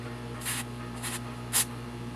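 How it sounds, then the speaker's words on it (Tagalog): Cold spray from an aerosol can is sprayed onto a circuit board in three short, sharp hissing bursts. The last burst is the loudest, and the bursts sound over a steady electrical hum with no talking. "Malamig siya pag in-spray mo sa board."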